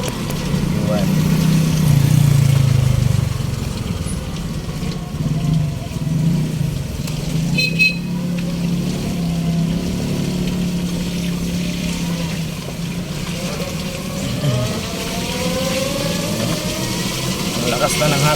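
A 60V electric vehicle upgraded from 48V runs at speed, with a steady motor drone and road rumble that whines in rising sweeps near the end; someone talks over it.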